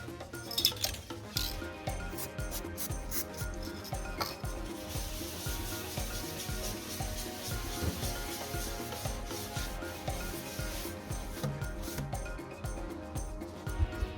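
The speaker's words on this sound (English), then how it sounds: "Mix up a little bit of body filler." Body filler being mixed for a Suzuki Let's 4 scooter mudguard repair: steady scraping and rubbing strokes of a spreader against a mixing board, continuous and close, with no talking.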